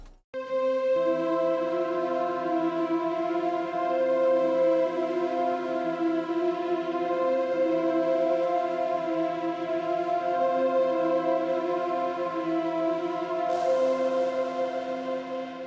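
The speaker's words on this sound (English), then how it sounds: "the Fragile Serum Bank by Sunboy, and I use the Pad Lone preset," Serum Pad Lone preset from Sunboy's Fragile Serum Bank, a steady sustained background pad chord holding for about fifteen seconds, smooth and even, with a faint hiss rising near the end, no voices.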